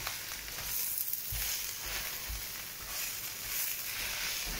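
Spinach wilts with garlic in a hot pan, sizzling and hissing steadily, with a few soft stirring scrapes. Nobody speaks.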